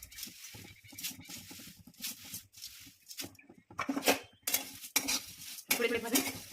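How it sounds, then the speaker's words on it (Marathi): Poha being dry-roasted and stirred in a hot kadhai: irregular scraping and clinking of a spatula against the metal pan, in uneven bursts with short pauses, close and moderately loud. "आपली कढई गरम झालेली, आता आपण पोहे भाजून घेऊया"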